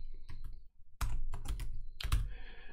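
Typing on a computer keyboard while entering a folder path, quick clusters of close, sharp key clicks with brief pauses between bursts.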